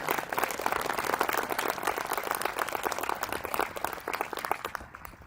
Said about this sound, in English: one more round of applause for our student speakers